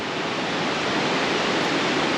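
Class 4 or 5 river rapids rush in a loud, dense, unbroken roar of whitewater, close by with no voices.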